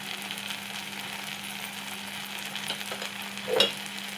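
Chilli powder, coriander powder, garam masala and coconut powder fry in a pan for chicken curry, a steady quiet sizzle with a spoon scraping and clinking briefly near the end.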